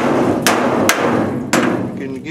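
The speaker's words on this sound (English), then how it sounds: "you would want to take a hammer to it like this" Three sharp metallic hammer blows land on washing machine parts, spaced unevenly over a couple of seconds against a steady background hum.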